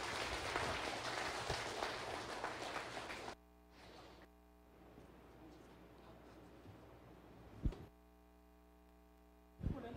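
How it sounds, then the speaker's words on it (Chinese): An audience applauds lawyer Zhang after his lecture on criminal procedure at a Taiwan meeting: about three seconds of loud, dense clapping, then it stops abruptly, leaving a quiet room hum with a couple of faint knocks. "我们再次的用热烈的掌声，谢谢张律师为我们演讲"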